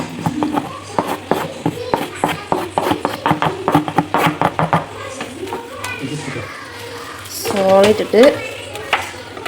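Onion is added to a pan of chicken for a curry and stirred, giving soft scraping and clattering of a spoon against the pan with a light sizzle underneath, while someone talks over it.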